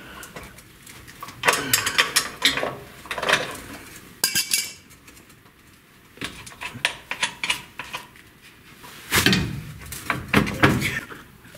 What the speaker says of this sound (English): Loosen that nut up.